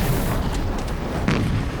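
Cannon fire pounds a village in a rolling, dense roar of booms and blasts, loud and close, with a sharper burst near the middle and no voices.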